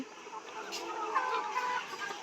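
Layer hens in a caged poultry farm cluck and murmur in a soft, continuous chatter, several birds overlapping at moderate distance with brief louder squawks rising now and then; no one speaks.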